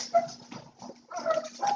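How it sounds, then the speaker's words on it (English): A pet dog whimpering indoors during a live craft session at home, with several soft high whines broken by a brief pause, fairly close and moderately loud, with no talking over it. "if I say hi, my dog thinks someone's here."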